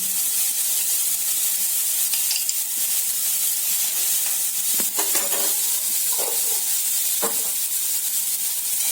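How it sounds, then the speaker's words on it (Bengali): Taro stem greens stirred in sizzling ghee in a pan, a continuous close hiss with scattered scraping strokes of the spoon, no voices. "ঘি দিয়ে নাড়াচাড়া করে ফেলে দিই"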